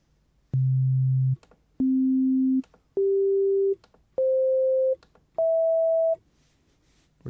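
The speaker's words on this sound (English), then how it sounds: "Which is just a sine wave going up the harmonic series, what you'd expect." Five steady pure sine-wave synth tones from a Casio VZ-1 modeled in Pure Data, each held under a second with short gaps, stepping upward through the harmonic series; clean and electronic, no voices.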